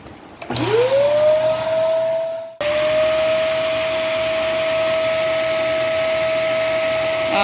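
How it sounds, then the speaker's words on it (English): A vacuum cleaner starts up with a rising whine at one end of a long pipe, drops out briefly, then roars back and holds a steady, loud, high-pitched drone. "I'm going to go to the other end with the vacuum cleaner and pull that right through."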